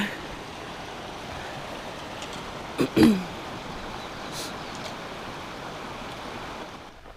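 Carrick Creek flows beside a Pacific Crest Trail hiking path in the Sierra with a steady, close, broadband rush. A brief knock and a faint voice stand out midway before the water fades slightly at the end.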